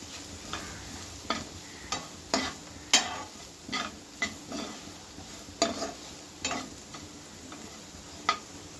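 Spiced beetroot frying in a pan while being stirred, a low sizzle under a regular series of spoon-against-pan scrapes and clacks, about a dozen strokes, close by with no talk.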